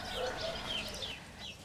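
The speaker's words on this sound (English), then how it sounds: "the only sounds are the birds, the cockerels waking me up in the morning" Cockerels crow in the morning in a remote countryside setting, a faint, somewhat distant call carried over soft outdoor ambience, with no talk.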